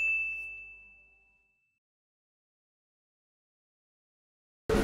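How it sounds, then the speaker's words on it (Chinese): A notification bell sound effect gives a single bright ding that rings out and fades over about a second and a half, followed by silence and then an abrupt loud burst at the very end. "打开小铃铛哦。"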